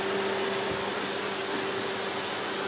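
A household vacuum cleaner with a long hose runs steadily, a loud continuous whooshing roar with a steady tonal whine and no pauses, close to the microphone.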